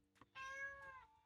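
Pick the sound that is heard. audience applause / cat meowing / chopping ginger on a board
cat meowing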